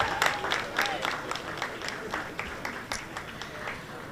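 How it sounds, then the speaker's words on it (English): An audience at a Jamaica 60 media launch in New York applauds for the Prime Minister, sustained crowd clapping with scattered louder claps and faint voices underneath. "One more round of applause for our Prime Minister and Jamaica."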